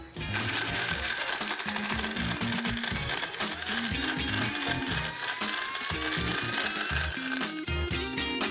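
Blender whirring loudly as it purées a banana and date smoothie with sour milk or kefir, a dense continuous grinding roar with choppy rattling of chunks against the jar, close and unbroken.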